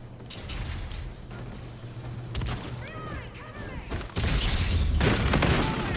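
Hornet weapon gunfire in Call of Duty: Infinite Warfare, loud bursts of shots with mechanical clatter that swell into a dense sustained volley near the end amid game effects.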